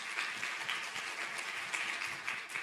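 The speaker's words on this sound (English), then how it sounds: "Let's give them another round of applause." Audience applause at a medical symposium on HeLa cells, a soft, even patter of many hands heard from a distance for under three seconds.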